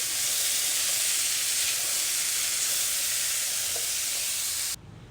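Food frying in hot oil for a prasadam offering gives a loud, steady sizzle that fills the whole clip without a break, then cuts off abruptly near the end, with no voices over it.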